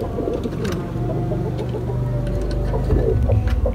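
Pet pigeons in a loft coo and flutter close by while a rooster and other fowl cluck underneath, a busy steady bird chorus with no talking.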